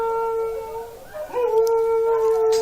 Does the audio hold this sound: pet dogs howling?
yes